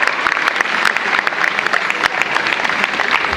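Audience applause in a crowded hall during a Rwandan dance performance, steady dense clapping from many hands throughout, loud and continuous with no talk over it.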